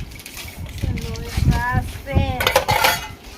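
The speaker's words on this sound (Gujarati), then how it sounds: "વાસણ ધોવાય છે" Dishes being washed in a Gujarati village home, with light clinks of cutlery and metal pots and the scrape of vessels under a voice and other chatter.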